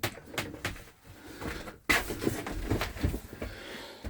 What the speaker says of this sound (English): I'll just close that door because the sun's coming in.